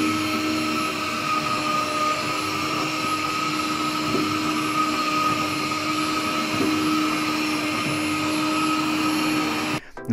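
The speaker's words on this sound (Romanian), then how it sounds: "Zgomotul produs de Hobot 388 nu este unul deranjant" A HOBOT 388 window-cleaning robot, working on glass or tile, runs with a steady, loud whirring suction drone that holds for ten seconds with faint clicks, then cuts briefly at the end.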